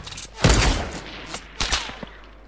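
In Fortnite, sniper gunfire cracks out in two booming shots with an echoing tail, one loud and one a little quieter, amid scattered softer in-game thumps.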